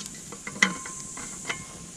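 Spam stew with Italian soup mix and water being stirred in a pot at a hot summer campsite, giving soft scraping strokes and a few light utensil knocks over a faint steady sizzle, close and quiet with no talking.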